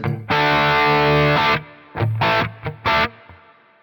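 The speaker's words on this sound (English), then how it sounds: "And the crunch tone would be like this." Distorted electric guitar through a Quad Cortex crunch preset, with a crunchy, gritty tone: a long sustained chord followed by several short choppy strums.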